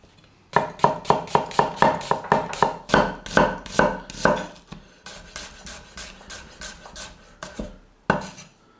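Onions sliced with a knife on a cutting board, a quick run of sharp regular chops near and loud, then slower, irregular cuts with pauses and a final single chop.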